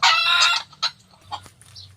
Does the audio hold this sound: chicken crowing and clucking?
yes